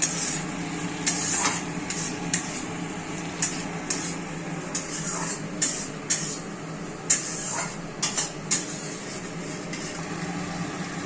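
Fried rice with chili sauce is stirred in a pan, with repeated scraping and clinking strokes of a utensil over a soft, faint sizzle.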